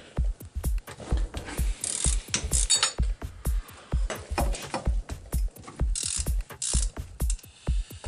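Ratchet wrench tightening a bolt on a Mitsubishi Mirage 4G15 engine, with rapid, close clicking in steady strokes and short pauses between them, sharp metallic ticks repeating throughout.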